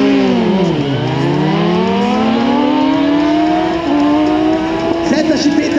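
A car launches hard at a 2014 acceleration drag race in Kunmadaras, Hungary. Its loud, close engine note dips, then climbs steadily as it revs through a gear change and keeps pulling for several seconds.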